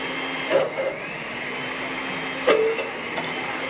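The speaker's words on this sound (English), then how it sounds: "The idea is to blend it until it's smooth" A blender whirs steadily at a low, even level while blending a pudding mixture until smooth, with a few light clicks and knocks rising briefly above the drone.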